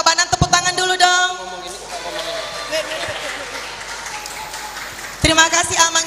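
Applause from an audience at an HKBP Denpasar church Sunday school celebration, a steady mid-distance wash of clapping for several seconds between bursts of a voice speaking.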